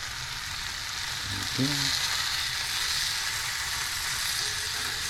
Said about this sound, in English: these peppers look like they are ready to cook. Put them over.